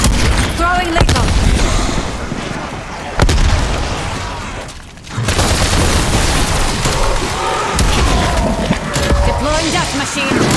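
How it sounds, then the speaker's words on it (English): Frag grenade explosions and gunfire in a Call of Duty: Black Ops Cold War zombies match, loud booming bursts around 1, 3 and 5 seconds amid continuous heavy combat noise, with a brief lull before the action resumes. "Throwing grenade. Frag out."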